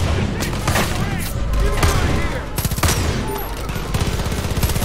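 Rapid bursts of gunfire fill a shootout aimed at a pastor in the Far Cry 5 video game. The shots crack loudly in dense, overlapping volleys, and voices talk over them.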